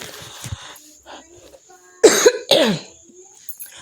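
A couple of harsh, close coughs burst out in quick succession after a few quiet vocal sounds.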